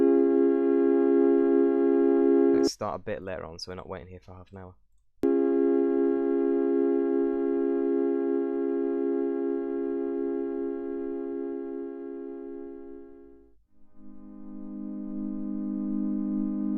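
An ambient synthesizer soundscape holds a sustained drone chord moving from C down to G, with a brief burst of spoken voice over it early on and a short dip before the new chord swells back in.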